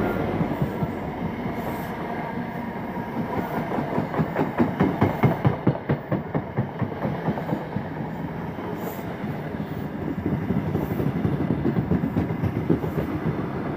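A Great Western Railway Class 43 HST train passes through Didcot Parkway station, giving a loud, steady rumble of engines and wheels with a rhythmic clickety-clack of wheels over rail joints, swelling and easing as the carriages roll by.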